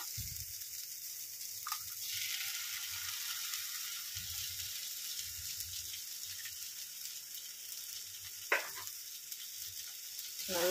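Onion, capsicum and egg sauté in a pan, with a steady moderate sizzle punctuated by a few spatula scrapes and clinks against the pan, close, without speech.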